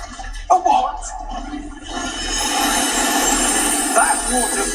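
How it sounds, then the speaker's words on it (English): A waterfall at Gringotts in Hogwarts Legacy rises into a steady roaring rush of falling water that builds and holds loud after a brief quieter opening, with a voice speaking over the start. "That waterfall washes away all enchantments."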